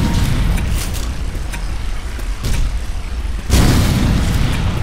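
Grenade launcher blasts in Left 4 Dead 2, heavy booming bursts rolling over a dense, loud game soundscape, with a bigger blast swelling near the end.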